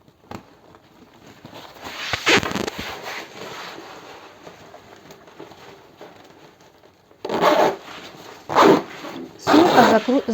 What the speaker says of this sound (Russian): Для того, чтобы застегнуть, я с 2 сторон одела бегунки и просто застегиваю.